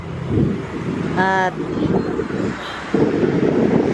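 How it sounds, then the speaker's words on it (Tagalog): Steady wind buffeting the microphone with a low roar throughout, while a voice speaks briefly and a short tonal whine passes. "malakas ang hangin"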